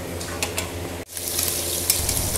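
Uttar Pradesh-style biryani sizzling and being stirred in a pot, a close crackling fry with scraping stir strokes and a brief pause before the sizzle resumes.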